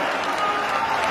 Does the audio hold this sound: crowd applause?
yes